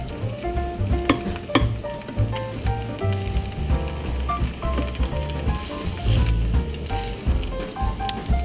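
Breakfast food with eggs fries in an oiled pan as it is stirred, a close, crackling sizzle with irregular clinks and scrapes of the utensil against the pan throughout.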